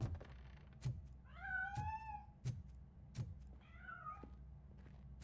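A cat in a video game meows twice in drawn-out, quiet cries, set against steady, evenly spaced thumps from the game.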